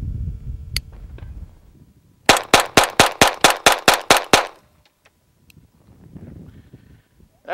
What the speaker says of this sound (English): As you can see, when this pistol is handled correctly with a firm grip, it functions flawlessly.